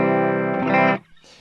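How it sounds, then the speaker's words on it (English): Dry electric guitar played straight into a Vox AC15 amp with no reverb or effects, a ringing chord that swells slightly then cuts off abruptly, followed by a quieter short strum. "This is my dry signal. Just playing through this Vox AC15."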